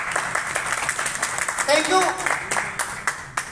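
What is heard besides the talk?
audience applause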